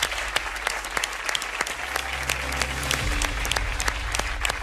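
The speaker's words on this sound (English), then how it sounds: "Give Donnie a round of applause" Game show studio audience claps steadily for a contestant, a dense close patter of hands with sharp individual claps standing out, while a low hum runs underneath.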